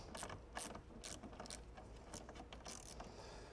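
A hand ratchet tightens a nut on an air helper spring suspension kit, giving several quick bursts of sharp, close clicking with short pauses between strokes.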